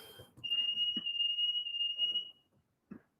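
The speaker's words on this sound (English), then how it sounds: "Alarm's still going off." An alarm going off in a room, a single sustained high electronic tone lasting about two seconds, with faint rustling and small knocks around it before it cuts out.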